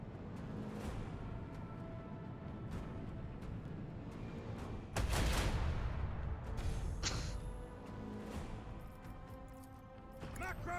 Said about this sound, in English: Macro cannons firing.